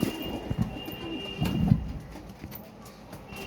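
Pigeons coo in low, throaty pulses at close range, with a few rustles and faint background noise between the calls.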